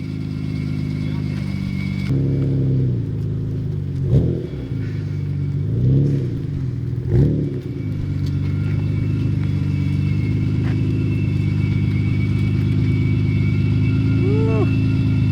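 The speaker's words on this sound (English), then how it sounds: "it sounds really good to sit there idling" A Nissan R32 Skyline GT-R with a newly fitted exhaust idles with a deep, steady burble, broken by three short rev blips early on before settling back to a loud, even idle; people talk faintly in the background.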